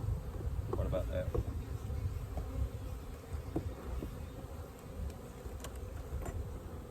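Honeybees buzz steadily around drawn-out comb at a homestead hive in May, a dense continuous hum close by with faint voices now and then beneath it.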